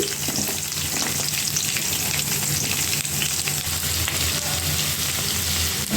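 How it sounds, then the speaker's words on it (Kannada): Green chillies hiss and crackle loudly in hot oil with spluttered mustard seeds and cumin, a dense, close, continuous frying sound with faint stirring and no talk. "ಇವಾಗ ಸಾಸಿವೆ ಮತ್ತು ಜೀರಿಗೆ ಎಲ್ಲ ಸಿಡಿದಿದೆ. ಇದಕ್ಕೆ ಹಸಿಮೆಣಸಿನಕಾಯಿ ಹಾಕ್ತಾಯಿದ್ದೀನಿ."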